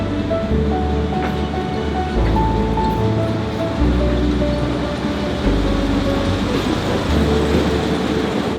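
Train rolling along Hanoi's train street, running right past houses and cafes, with a loud, steady rumble and rattle of carriages close by throughout.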